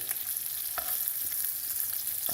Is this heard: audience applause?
no